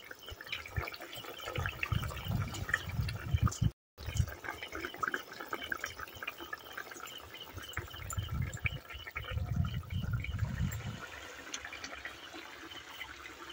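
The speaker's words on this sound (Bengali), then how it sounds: "আবারও কিছুক্ষণ এইভাবে ফুটতে দেবো, যাতে মাছগুলো আরও ভালোভাবে সিদ্ধ হয়ে যায়" Fish curry made with kuche fish simmers and bubbles in a pan, giving a steady close burbling boil with low surging bursts and one brief dropout.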